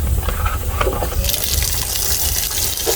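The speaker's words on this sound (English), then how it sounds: "So a splash of vinegar and the lime." Vinegar and lime juice poured over raw goat meat in a kitchen, a steady close liquid gush that brightens and thickens partway through, continuous for a few seconds without talk.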